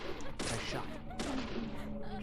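Rapid bursts of gunfire in the video game Deadly Premonition, loud repeated shots crackling in quick succession while a player talks over the action.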